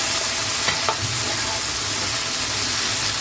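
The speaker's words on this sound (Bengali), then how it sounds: "পেঁয়াজ কুচি, কাঁচামরিচ কুচি দিয়ে আমি আবার ভেজে নেব" Chopped onion and green chili frying in a pan, a steady close sizzle with faint stirring scrapes throughout, no talking.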